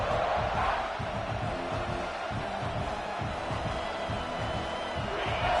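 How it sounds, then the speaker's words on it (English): A packed college football stadium crowd roars loudly and continuously, a dense wall of cheering and yelling that holds steady throughout, with commentary voices faintly mixed in. "This crowd, full throat, splitting the eardrums and letting them know it's going to be a long day."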